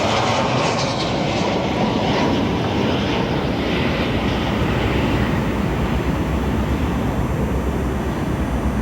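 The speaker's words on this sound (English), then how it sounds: "And here comes Copa Airlines." A Copa Airlines airliner arriving at O'Hare roars loud and steady with dense, unbroken engine noise, close by and alone, the rumble holding even throughout.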